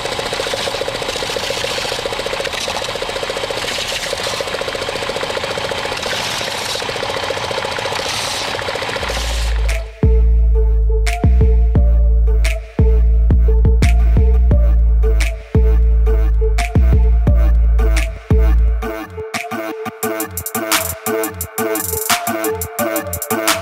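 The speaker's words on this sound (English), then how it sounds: "here at the sander, I'm gonna round off these edges." Power sander rounding off the edges of a vacuum-formed plastic stencil box: a steady loud motor drone, then the workpiece pressed on in repeated grinding passes separated by short breaks, no talking.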